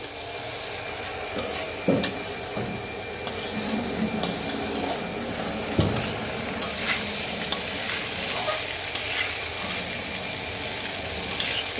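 Rice for plain polao fries in a pan over a high gas flame, a steady close sizzle with repeated scraping stir strokes and occasional clinks throughout.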